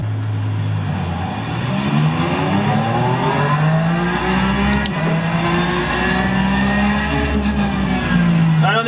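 Porsche 911 Cup race car engine in a racing sim at the Gilles Villeneuve circuit, revving steadily with rising and falling gear sweeps and a brief tire squeal, loud and close throughout.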